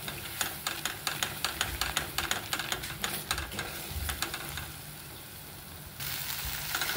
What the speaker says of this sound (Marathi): हा सगळा कच्चा मसाला आहे, त्याच्यामुळे हा आपल्याला पूर्ण तेल सुटेपर्यंत हा आपल्याला भाजून घ्यायचा आहे मसाला